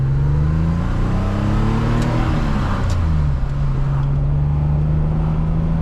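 A BMW E28 535is with a low-rpm misfire pulling away in first gear, a loud close engine drone that rises in pitch, dips at a gear change around the midpoint, then holds steady.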